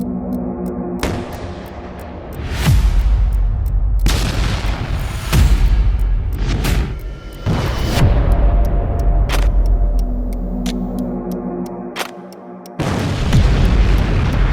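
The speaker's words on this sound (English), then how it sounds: "Massive explosion at Chernobyl reactor building at night." A massive night explosion hits the Chernobyl reactor building, Soviet Union, 1986, heard as a series of heavy booms, roughly six loud blasts, each a sharp crack followed by a deep rumbling decay, with a low roar between them.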